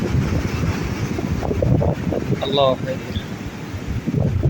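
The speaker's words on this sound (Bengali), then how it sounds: "অনেক বড় বড় ঢেউ আসতেছে তো তাই বেশি ডর করতেছে" Big waves on a rough sea crash and surge under strong, blustering wind buffeting the microphone, with voices talking briefly over the roar.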